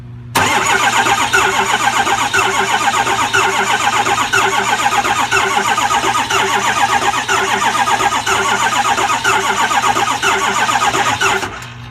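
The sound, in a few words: car engine cranking and trying to start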